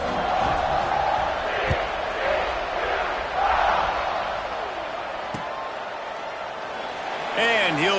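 A college football stadium crowd at kickoff in Arizona State vs TCU gives a broad, sustained roar and murmur with rising swells, while a commentator's voice talks over it.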